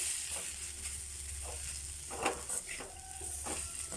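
Blended parotta and egg fry in a pan while being stirred, giving a continuous faint sizzle with a few soft scraping strokes and no voices.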